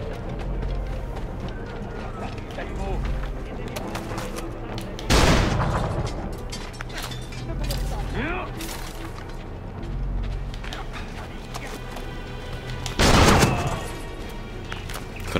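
Two heavy, booming musketoon shots in Assassin's Creed IV Freedom Cry, spaced several seconds apart over a busy backdrop of combat and ambient game noise.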